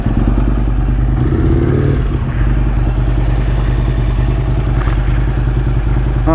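A motorcycle engine idling close and loud in wet, muddy conditions, a steady throbbing drone with a brief rise in revs early on and some mechanical clatter.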